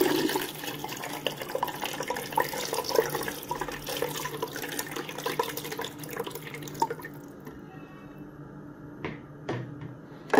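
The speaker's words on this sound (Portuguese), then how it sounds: "Agora vamos ligar e botar a água. Vou colocar a água agora." Water is poured into the reservoir of an ice machine, a continuous splashing trickle lasting several seconds before it stops, followed by a few faint drips and light knocks.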